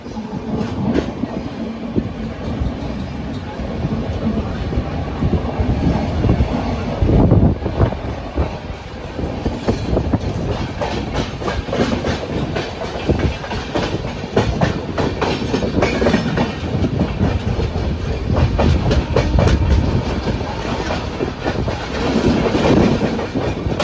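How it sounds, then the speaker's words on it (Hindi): A Duranto Express train accelerates out of Howrah station, its continuous rumble and rhythmic clickety-clack steady and loud throughout, with wind buffeting the microphone. "और साथ ही अपनी गाड़ी यहाँ पे एक्सेलरेट कर रही है अब यहाँ से हावड़ा स्टेशन से निकलते ही।"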